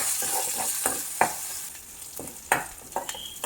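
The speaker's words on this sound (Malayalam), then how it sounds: "നന്നായി ഒന്നത് വഴറ്റിയ ശേഷം നമുക്കതിലേക്ക് മുളകിട്ടു." Chillies and mustard seeds sauté in a pan for an Onam koottukari, with a steady sizzle and scattered spatula scrapes and taps at an irregular pace, fairly close and moderately loud with no voices.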